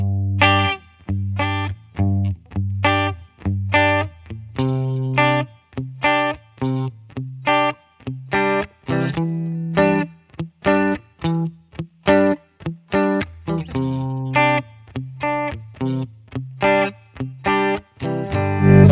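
Electric guitar with distortion and chorus effects plays simple open chord voicings for a song's chorus: steady rhythmic strums with short gaps between chord changes, alone throughout.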